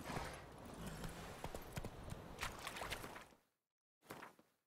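Horse hooves clip-clopping in The Witcher 3 video game, a fast steady run of close hoofbeats that cuts to silence briefly before resuming.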